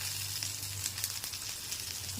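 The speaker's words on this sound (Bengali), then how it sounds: "এই যে দেখুন কত শব্দ হয়েছে, মানে এটা কড়া করে ভাজা হয়ে গেছে" Pumpkin flower fritters deep-frying crisp in hot oil give a steady, dense sizzle with a few brighter crackles, close and continuous throughout, no voices.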